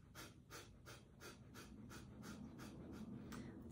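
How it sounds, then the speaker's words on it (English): Breath of fire done while sitting tall: a steady run of quick, forceful exhales through the nose, each a short breathy puff at about two per second, close and fairly quiet with no talking. "you want to sit tall and then blow air out your nose"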